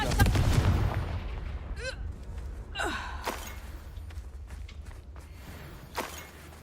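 Fire spell blasts from Confringo in the Hogwarts Legacy video game: several sharp whooshing bursts and a booming impact at the start, then scattered crackling hits and a rising swoosh over a low rumbling game backdrop, with breathy gasps but no clear talk.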